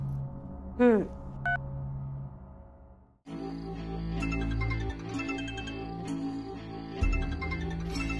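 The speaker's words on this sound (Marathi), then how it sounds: "अहो रघुनाथ महाराजांका फोन करा." A few short electronic tones of a phone being dialed sound, then a looping ringtone melody plays steadily and fairly loud, with faint voices in the background.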